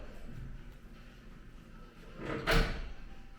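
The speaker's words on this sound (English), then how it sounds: "standard secret door that you can open or close" A hinged or sliding secret door between a hotel bathroom and the suite room is opened or closed, making a single brief wooden thump and rustle near the end over a quiet room, with no talking.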